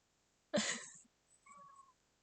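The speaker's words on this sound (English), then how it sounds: "My cat's meowing." A cat gives one clear meow followed by a softer, shorter second meow, both fairly quiet in an otherwise still room.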